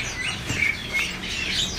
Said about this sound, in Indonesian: Ready juga burung pelamboyan ya.